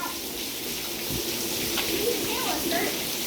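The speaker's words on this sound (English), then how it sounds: "I've never seen a hailstorm with like this much hail in my life." Hail falls steadily in a hailstorm in Chuluota, Florida, a dense, even hiss of pelting ice close by, with faint voices murmuring beneath it.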